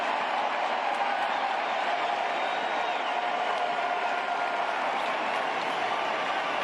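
Astros fans cheer and applaud steadily in an away ballpark after a Yordan Alvarez home run, a dense, constant crowd roar that holds without letting up.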